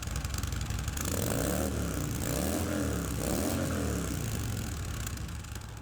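A motorcycle fitted with its stock exhaust system runs steadily, a continuous engine drone with some rising and falling revs, fairly close and without speech.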